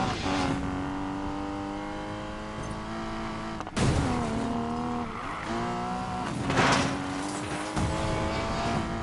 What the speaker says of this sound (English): It really doesn't like to drift very much, the Porsche Cayman.